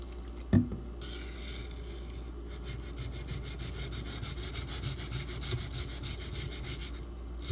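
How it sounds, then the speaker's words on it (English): A D2 steel knife is drawn along a sharpener in a steady, rasping scrape with a rhythmic grinding texture, opened by one sharp knock, close and continuous, with no talking. "That scratch you hear right there at the end is hitting the inside of the sharpening choil."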